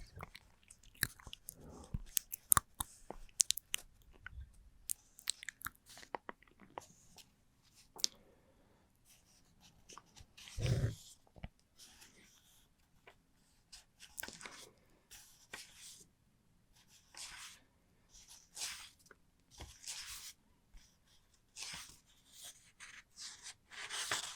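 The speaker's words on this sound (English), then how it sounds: "I really hope you're liking all these page turning sounds" Soft, close paper rustles and crinkles come in irregular bursts with quiet pauses between, like pages being handled and turned.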